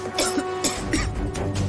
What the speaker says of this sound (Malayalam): അമ്മ എന്താ ചുമക്കുന്നേ?